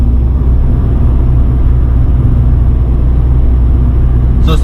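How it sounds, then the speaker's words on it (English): Steady low engine drone inside a Tata Tiago BS6 pulling in fourth gear at about 70 with the air conditioning running, a loud, even cabin rumble with road noise that barely changes. "now I'm into fourth gear and let's see how it picks up with the AC on"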